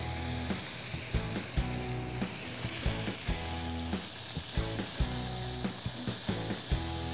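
Bacon and ground beef fry together in a pan with a steady, close sizzle, broken by repeated knocks and scrapes of a utensil stirring the meat at a fairly even pace.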